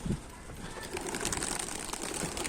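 Pigeons on top of a coop give soft coos close by over a steady outdoor background, with no talking.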